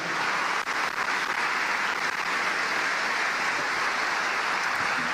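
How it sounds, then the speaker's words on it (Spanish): Congregation applause in a church after a sermon passage, a loud, dense and continuous wash of many people clapping together, steady from start to finish with no speech over it. "Vamos a dar un aplauso a esta palabra."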